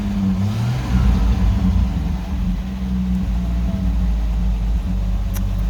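A project car's engine runs with a steady mid-range drone, its revs rising and falling as the throttle is worked, loud and close throughout with no talking.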